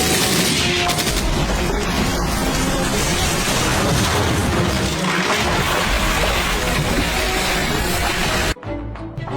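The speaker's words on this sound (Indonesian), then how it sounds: "Tembakan beruntun gagal mengenai pria itu." Sustained rapid burst of gunfire from a Chinese police drama film, dense overlapping shots and booms continuing loud for several seconds before cutting off abruptly near the end.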